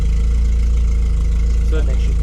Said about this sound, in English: But idling, she just does not. She doesn't like to idle.